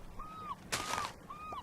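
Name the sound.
seagulls calling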